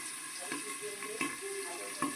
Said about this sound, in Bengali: তেলটা গরম হয়ে গেছে এবার আমি মাছগুলো ছাড়বো